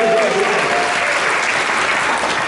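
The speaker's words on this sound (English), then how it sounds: "that's a round of applause" A short burst of dense audience applause, loud and close, many hands clapping continuously without pause.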